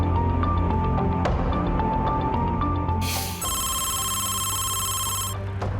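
A telephone ring tone trills in a loud, steady electronic pattern, sounding in repeated bursts over a busy background bed of music or noise, with a brighter tone taking over in the second half.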